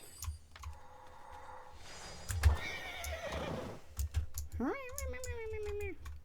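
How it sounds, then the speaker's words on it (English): A horse in World of Warcraft whinnies loudly near the end, with a rising then falling call, after scattered hoof clops and clicky game sounds. "Horse noises."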